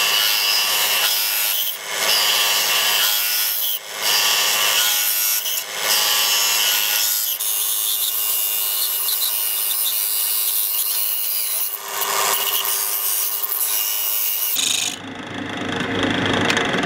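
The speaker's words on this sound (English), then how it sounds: "you could cut this with a hacksaw, just carefully mark out and just cut to your line" Hand sawing with strokes of steady back-and-forth rasping, close and loud, with brief dips between strokes before it stops, a hacksaw cutting along a marked line on a part for an ultralight wood gas backpacking stove.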